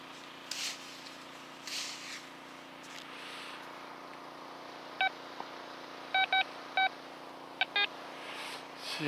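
A Quest Q20 metal detector gives a string of brief, faint electronic beeps, single at first and then in quick clustered pairs, over a steady background hum with no talking.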